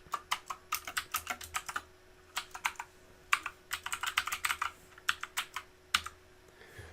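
Password being typed on a computer keyboard: quick, irregular bursts of crisp keystrokes, close and clear, with short pauses between runs and no talking.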